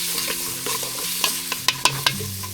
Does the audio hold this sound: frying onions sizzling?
yes